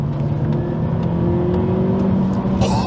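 A 2008 Toyota Solara coupe with a small 4-cylinder engine and manual transmission accelerates, its engine droning loud and steady from inside the cabin as the pitch slowly climbs.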